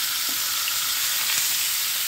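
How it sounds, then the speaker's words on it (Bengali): Marinated chicken fries in hot oil in a pan with cardamom and cinnamon, giving a steady, close broadband sizzle throughout with a couple of faint soft clinks and no voice. "ম্যারিনেট করা চিকেনটাকে দিয়ে দিলাম"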